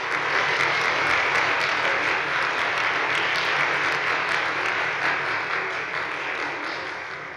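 A convocation audience at Carleton College applauds to welcome a speaker. The clapping is steady, full and sustained throughout, loud and close, and fades slightly toward the end with no voices over it.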